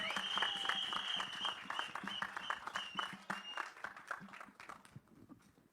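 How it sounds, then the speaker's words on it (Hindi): Audience applause at a film trailer launch event, a burst of dense clapping that gradually thins and fades out, heard from moderately far with faint voices beneath. "जोरदार तालियां."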